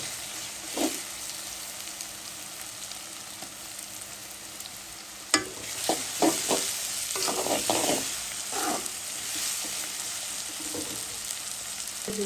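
Ginger and garlic frying in a pan for bitter gourd, a soft steady sizzle broken by several sharp scrapes and clinks of stirring, one loud knock near the middle.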